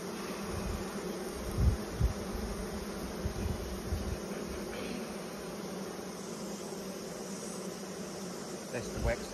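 Honeybees buzz in a steady, dense drone around open hives during a honey harvest, a close, continuous hum with a few soft knocks and handling noises rising over it.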